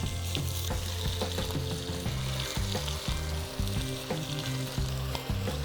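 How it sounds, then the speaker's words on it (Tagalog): Chicken pieces sizzle and fry in a hot pan for Filipino pinikpikang tinola, a steady loud crackle with stirring and utensil knocks throughout, no talking. "We're now ready to add our chicken pieces in."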